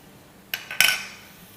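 A spoon scrapes and clinks against a pan while keema is mixed with salt, garlic powder and black pepper. Two or three quick metallic knocks ring out close by in an otherwise quiet kitchen.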